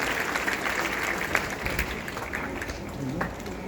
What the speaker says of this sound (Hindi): एक बार हम मिश्रा जी के भी ताली हो जाओ